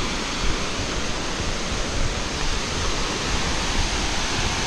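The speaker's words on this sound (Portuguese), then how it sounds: "Olha o tamanho dessa cachoeira, velho." A large waterfall roars as a loud, dense, unbroken rush of falling water, heard up close and filling the whole scene.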